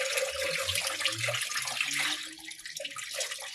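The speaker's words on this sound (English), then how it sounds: "And pour off the water." Washed brown rice has its second rinse water poured off, a steady close rushing splash of water into a sink with a few low clunks of the container, continuous for the whole stretch.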